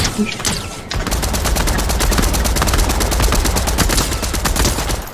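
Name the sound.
sniper gunfire in a video game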